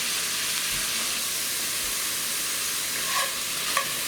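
Chopped onions stirred into browned lamb in a Dutch oven, a continuous loud frying sizzle with a few faint scraping stirs near the end.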